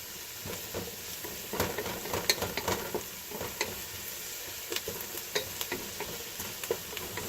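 Sliced vegetables sizzling in a pan while cooking for spaghetti sauce, a constant close hiss broken by scattered scraping and tapping of stirring, without any voices.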